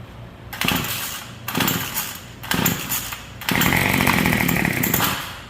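A Yard Machines Y2510 string trimmer engine runs on full choke in loud, close bursts, revving up and dropping back three times before holding a steadier high buzz.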